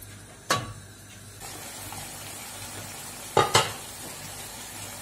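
Chopped onions sizzle softly in melted fat for cabbage borscht in a village kitchen, with a sharp utensil clink early on and a pair of louder scraping stirs near the end.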